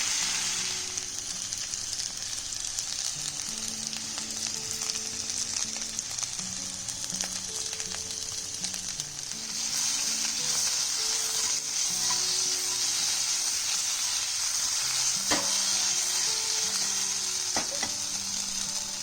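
Sliced potatoes fry on high flame in a pan, a steady loud sizzle with intermittent stirring scrapes and occasional clinks throughout.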